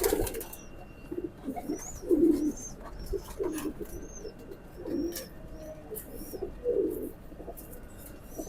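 A teddy pigeon coos in a repeated low, rolling rhythm close by, about a half-dozen calls in a row, with faint higher bird chirps in the background.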